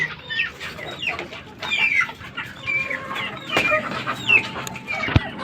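Gamecock breeding hens cluck steadily at close range, with short squawks and calls from several birds overlapping through the whole stretch.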